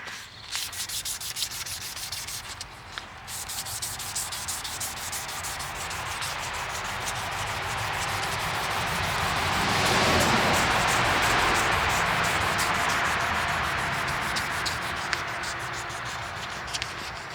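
Close, steady rubbing of 600 grit sandpaper by hand in a workshop, a continuous hiss lasting the whole stretch that swells louder in the middle, with a few faint knocks and no talk.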